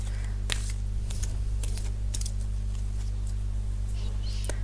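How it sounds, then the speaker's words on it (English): Oracle cards are shuffled with soft, irregular flicking and riffling taps over a steady low electrical hum. "Let's get to shuffling these."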